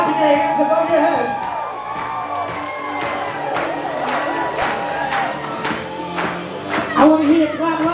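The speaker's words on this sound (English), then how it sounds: "we need to see you guys clapping your hands above your head" At a Kinney Bungalow wedding reception in Narragansett, Rhode Island, guests clap and cheer in a loud, lively crowd, with whoops and shouted voices over rhythmic overhead clapping throughout.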